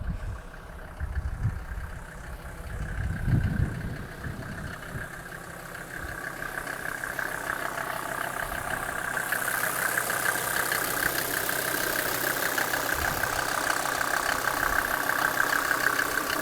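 A 1995 Mercedes G-Class 290GD two-door short-wheelbase with its 2.9-liter five-cylinder OM602 turbo diesel idles steadily, a close, even low rumble with faint knocking that lasts the whole stretch, with no talking.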